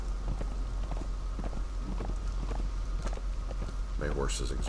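Horse hooves clip-clop in a steady rhythm across ground in the video game Conan Exiles, with moderately loud, evenly spaced footfalls and a brief burst of other game noise near the end.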